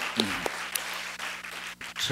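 A church congregation gives a short, faint round of congratulatory applause: a few scattered claps within a soft, brief patter.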